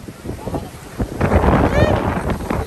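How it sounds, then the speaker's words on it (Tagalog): Strong gusting wind from Typhoon Maring buffeting the microphone, loud rushing roar that swells and surges, with a person shouting excitedly over it. "Sobrang hangin dito, guys!"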